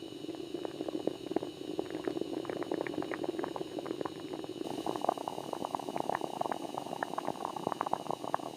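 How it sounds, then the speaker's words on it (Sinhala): A pot of potatoes bubbles at a steady boil in a traditional village kitchen, dense rapid popping and gurgling, close and even throughout with no talking. "ඊළඟට අල ටික හොඳින් තම්බා ගන්න"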